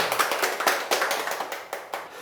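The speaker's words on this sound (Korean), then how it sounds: "박수 한번 주세요" Scattered clapping from a small group of people in a casual interview setting, a brief burst of uneven hand claps at moderate level with no talking.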